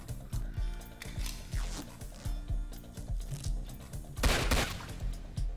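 Rapid bursts of gunfire from a Roblox video game crackle in quick irregular volleys, dense and close, with a heavier cluster of shots near the end.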